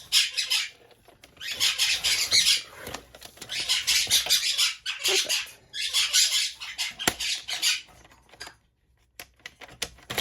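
Birds squawk and chatter nearby in bursts of harsh, high calls, with paper-cutting and crafting noises in between and a brief spoken word.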